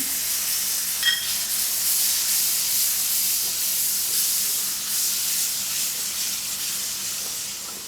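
Crushed tomatoes hit hot oil in a pan while making channa masala, producing a steady, close, bright sizzle and hiss that holds throughout without anyone talking.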